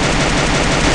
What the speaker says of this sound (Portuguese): Houve barulho de sniper.